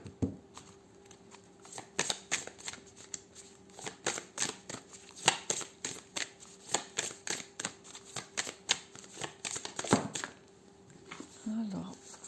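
Oracle cards are riffled and snapped down in a fast run of crisp, papery clicks and flutters, close and fairly quiet, with a brief soft voice near the end.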